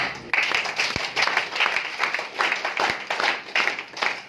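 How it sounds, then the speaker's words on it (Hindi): Audience applause at a distributor training seminar for DXN: a steady wash of many hands clapping, fairly loud, with a few sharp individual claps standing out and no talk over it. "एक जोरदार तालियां।"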